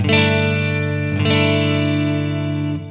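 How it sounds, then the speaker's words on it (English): A sustained electric guitar chord rings out with a clean tone and reverb through a LEKATO Tank-G effects processor on a Fender Twin Reverb amp preset, struck twice and left to decay. "this first preset I built is using the Fender Twin Reverb amp. And it's just a nice, pure, clean sound"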